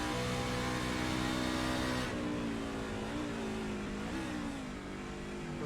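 Race car engine at Road America in a racing video game, loud sustained revving that drops sharply as the driver lifts, then rising pitch through successive gear changes, close and continuous.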